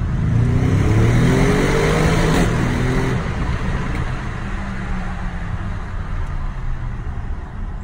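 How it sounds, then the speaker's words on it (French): An Audi RS7 engine revs outdoors in a loud, close roar that rises and then settles into a steady, rumbling idle-like drone, with no voices over it. "enfin l'RS7 fait un son, regardez."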